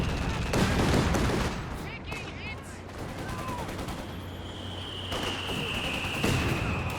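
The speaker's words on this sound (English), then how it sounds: "Looks like only one shell from mortar half-track went off." Mortar half-track shells fire and land in the Company of Heroes 2 strategy game, with scattered gunfire bursts and distant booms over a dense, noisy battle ambience.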